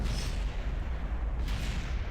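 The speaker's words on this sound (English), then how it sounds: "And more explosions." A spacecraft explodes in Kerbal Space Program with a continuous, heavy, rumbling roar of blasts and crackling debris, loud and unbroken throughout, with no talking.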